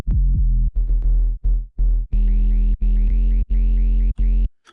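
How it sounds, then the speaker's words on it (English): Soloed sub basses from a jump up drum and bass track, heavy booming low notes with some upper harmonics, chopped into loud rhythmic stabs and sustained hits separated by short gaps, alone without voices. "So if you just solo all the sub basses, it's gonna sound like this."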